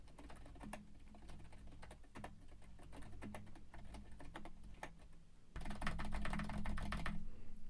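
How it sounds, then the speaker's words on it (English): Typing on a keyboard with Xylent dampened tactile switches, struck harder than usual, giving a fast, close run of muted clicks that turns louder and denser toward the end. "I'm going to type a little harder than I normally do so you can get an idea of how much noise you get"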